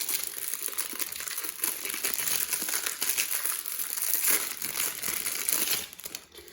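Plastic packaging of a pack of small thank-you stickers crinkles and rustles continuously as it is handled up close, with a brief quieter moment near the end.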